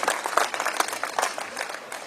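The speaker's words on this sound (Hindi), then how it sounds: "तालियां बजाओ तो ढंग से बजा दो" Audience at a talent show event clapping steadily, a dense wash of many hands applauding without a break, moderately loud and close.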